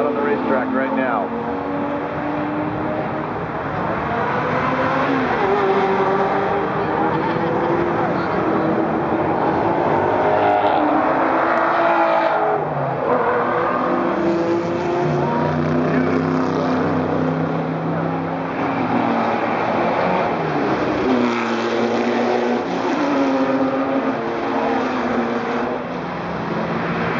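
Exotic supercars, including a Ferrari 458 Italia and Ford GT, accelerating on a racetrack during a track event, a steady loud engine roar throughout with a commentator talking over it.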